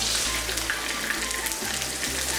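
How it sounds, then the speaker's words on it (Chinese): Chicken pieces pan-fried in oil until golden-brown for a Cantonese-style dry-fried pepper chicken, giving a steady, even sizzle and hiss that stays close with no voices. "把鸡肉煎到这样表面焦黄的，这样吃起来特别的香"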